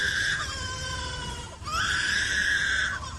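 A lyrebird, a master mimic, gives loud, clear whistled and screeching calls in two long phrases separated by a brief pause near the middle.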